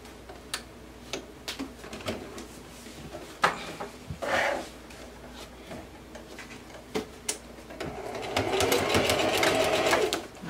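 A sewing machine stitching a circle blouse gives scattered light clicks and ticks from handling, then a short, steady run of stitching near the end, close and fairly quiet.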